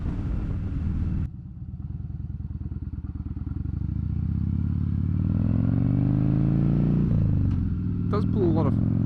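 A Harley-Davidson Dyna Fat Bob motorcycle's deep exhaust rumbles steadily while riding, dipping briefly then building to a louder, sustained drone as it accelerates.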